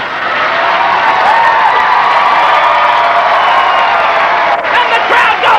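A comedy-show audience at a 1995 stand-up special roars with loud, sustained cheering and whooping that holds steady, with a shouted voice rising above the crowd noise.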